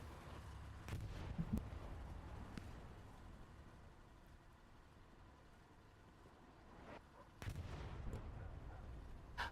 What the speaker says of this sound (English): Allied artillery marking out on that corner where PZLD is going to be pushing out from